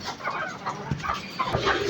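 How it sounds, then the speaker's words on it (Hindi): Several chickens cluck and murmur nearby in a continuous low chatter, with a few slightly louder calls breaking through. "मेरे अंदर जाने से पहले सारी मुर्गियाँ मेरे पास आ गई हैं।"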